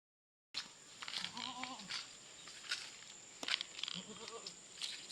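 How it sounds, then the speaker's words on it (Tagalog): A tethered farm goat bleats a few times in short wavering cries, fairly faint against steady outdoor background noise. "kasama ko ang ating kambing sa likod"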